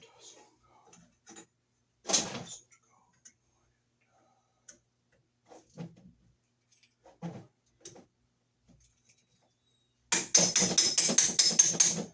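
Box plate for Wiremold surface raceway being tapped into place while adding a new outlet: a few sharp, separate knocks spaced across the clip, close and fairly loud, ending in a rapid burst of taps.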